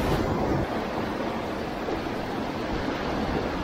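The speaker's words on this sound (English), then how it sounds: "in the wash down there, in the waves as it builds up." Ocean surf washing and building up along a beach where anglers spin for tailor, a steady broadband roar of waves with some wind noise, no voices.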